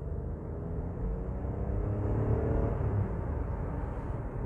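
A Suzuki Vitara three-cylinder engine runs steadily with a low, slightly uneven drone, heard from inside the car, constant and moderately loud without speech.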